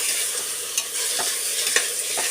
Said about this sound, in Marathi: आता मी हे टॅमॅटो आणि हा जो मसाला आहे ना तो याच्यामध्येच आता मी भाजणार आहे